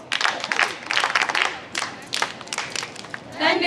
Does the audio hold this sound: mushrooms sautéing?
no